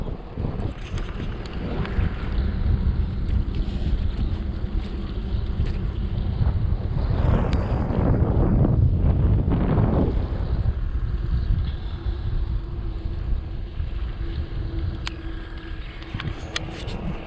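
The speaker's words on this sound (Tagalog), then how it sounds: "lakas ng hangin. Para din kaming umaahon." Strong wind roars steadily over the microphone while riding a bicycle on flat ground during a mountain cycling tour in Dingalan, Aurora, with heavy low buffeting that swells midway and carries on without a break, with no voices.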